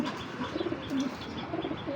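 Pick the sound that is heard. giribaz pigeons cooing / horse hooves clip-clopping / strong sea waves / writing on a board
giribaz pigeons cooing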